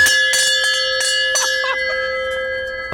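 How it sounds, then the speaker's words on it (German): A ferry bell on a Swiss lakeside landing is rung by hand to summon the ferry, giving several bright metallic strikes with a long sustained ring, close and fairly loud, with brief voices and outdoor background. "Ah, da ist die Glocke."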